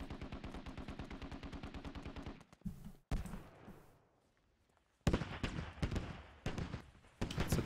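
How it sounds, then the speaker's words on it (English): Artillery and gunfire in the military shooter game Squad: a rapid rhythmic burst of shots, then heavy booming blasts with quiet gaps, followed by further loud cracking volleys, no talking. "It's artillery behind us"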